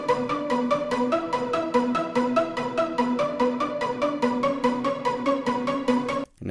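Short, evenly repeating synth plucks harmonize with a main synth melody in an electronic track, a bright rapid pattern at moderate volume that stops briefly just before the end.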